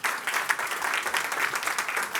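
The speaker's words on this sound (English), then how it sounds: "So give yourself a round of applause." A room full of people at a summit keynote dinner claps steadily, dense continuous applause filling the space throughout without any speech.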